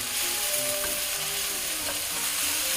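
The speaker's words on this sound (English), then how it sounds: "a little bit of white wine to deglaze some of this fond off the bottom" Sauteed shallots, garlic and mushrooms deglazed with white wine in a hot pan, giving a loud, steady, dense sizzle with faint scraping and stirring underneath.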